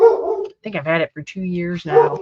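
A dog yips and barks several times in short bursts, loud and close indoors, with a person talking over and between the barks.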